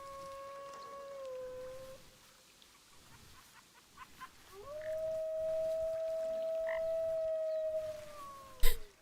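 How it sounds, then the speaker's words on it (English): Wolves in the Planet Zoo video game let out long, steady howls, one short call early, then a sustained, clear, rising-then-level howl carrying for several seconds, fairly close over quiet ambience, ending with a sharp click. "I love that I can hear the wolves howling from over here."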